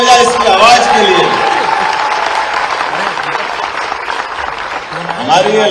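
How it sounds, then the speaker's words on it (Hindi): Audience applause at a live Madhya Pradesh government scheme launch event, sustained clapping from a crowd filling the whole stretch, loud and fairly steady with a voice audible in places. "जोरदार ताली बजाए इसकी आवाज के लिए।"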